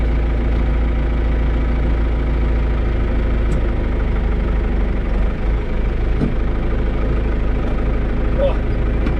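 John Deere tractor engine running at a steady low idle, a continuous close rumble with a few faint clicks and knocks over the top.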